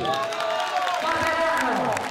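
Rally crowd in Piazza Vittorio Veneto at a final campaign meeting, cheering and clapping for four council members from Matera, with voices shouting over a loud, continuous crowd roar.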